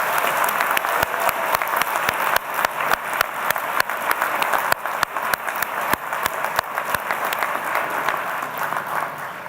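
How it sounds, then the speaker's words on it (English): Sustained, dense applause from a convocation audience at McGill University's spring ceremony, steady and loud throughout with many overlapping hand claps and no speech. "Let's give them a big round of applause."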